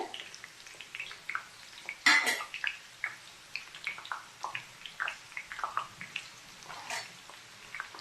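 Onions fry in oil in a pan for homemade hair oil: a quiet crackling sizzle punctuated by soft scrapes and one sharper clank of a metal utensil.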